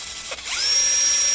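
An electric drill spins speedometer gears during a speedometer restoration. A brief clatter comes first, then the drill winds up into a steady high-pitched whine that holds close and loud, with no talk.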